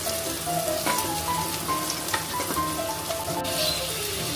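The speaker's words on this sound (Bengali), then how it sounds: "তারপরে একটুখানি জল দিয়ে নিচ্ছি যাতে মশলাটা পুড়ে না যায়" Spice paste fries in a pan for ilish macher jhol after a splash of water is added, giving a steady, close sizzle and crackle that stays even throughout.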